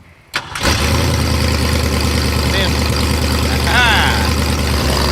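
A Ford Maverick engine, just fixed for a vacuum leak and idle mixture and with a slight exhaust leak, cranks and catches, then settles into a loud, steady rumbling idle close by.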